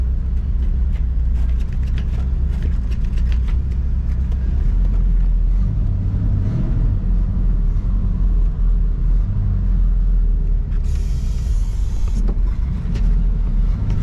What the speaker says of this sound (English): We're gonna pull her out, and we're gonna go around the parking lot.